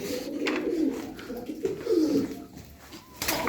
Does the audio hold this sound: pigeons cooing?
yes